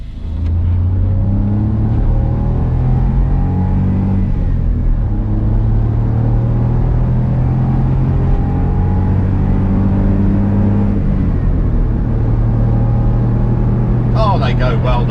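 A Smart car's small engine revs up steadily and loudly, its pitch climbing through the gears, heard from inside the vehicle with a brief rattle near the end.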